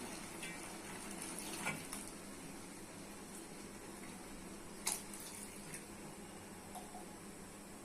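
Water pours into a cooking pot of lentil curry with ridge gourd, potato and pumpkin, a soft continuous running splash with a couple of brief clinks and bumps, fairly quiet and steady throughout.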